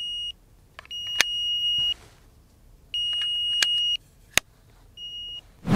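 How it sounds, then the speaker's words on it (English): A JIUYEE RIC hearing aid sounds its anti-lost alarm: loud, close electronic beeps in roughly one-second bursts, repeating with brief gaps and sharp clicks in between, with no talking. "the hearing aid will emit an alarm sound after 30 minutes to help you find it"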